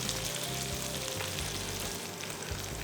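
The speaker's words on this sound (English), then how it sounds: "in the remaining oil, fry your aromatics, which is the ginger, shallots, garlic, and green onions" Ginger, shallots, garlic and green onions frying in hot oil, giving a steady, close, dense sizzle with faint stirring and no talk.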